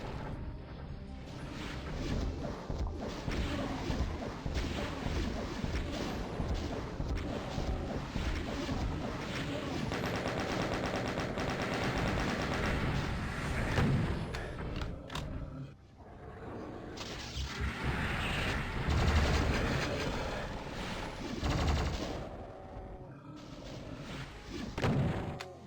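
Continuous heavy gunfire and booming explosions from the Doom mod Eviternity II, map 29, form a dense, loud barrage of thuds and crashes with brief lulls, punctuated by monster roars.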